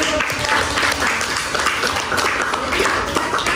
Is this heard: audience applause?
yes